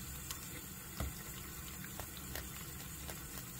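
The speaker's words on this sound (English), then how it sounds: "We'll rinse it really well." Running water pours steadily while hair is rinsed, a continuous broadband wash with a few small splashes and knocks over it, close and moderately quiet, with no talking.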